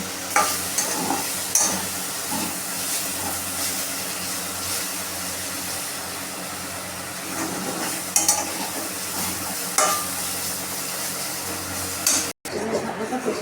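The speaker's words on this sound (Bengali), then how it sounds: "আমরা এটাকে ভালো করে কষিয়ে বা ভেজে নেব" Steady sizzling of potato and pointed gourd frying in a pan, with occasional scraping stirs and a few louder bursts of crackle throughout.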